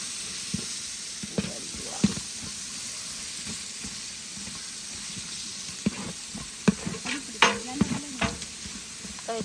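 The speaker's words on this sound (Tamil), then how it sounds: "பிடிக்காம நல்லா கிளறி விடணும். நல்லா வதக்கி விட்டு கொண்டே இருக்கணும்." Masala being stirred and sautéed in a pan for biryani, a steady sizzle and frying hiss with intermittent scraping strokes of the spoon, close and moderately quiet.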